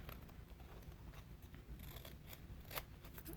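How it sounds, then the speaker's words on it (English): Scissors cut along a drawn line on orange paper for a children's fruit craft, giving quiet repeated snipping and crisp paper rustle, faint and close. "I'm going to cut right on that line that I drew earlier"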